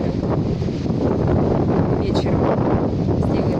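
Strong wind sweeps across a beach by the sea at Lazurnoye, a loud, steady blustery rumble on the microphone with small gusty surges throughout.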